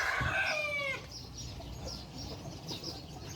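Chickens inside a house: a rooster crows loudly up close, the call cutting off after about a second, followed by quieter clucking and scratching around the room.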